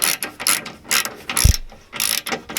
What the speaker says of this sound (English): I'll just tighten these up slightly, then I'll do up the slack in the other bolts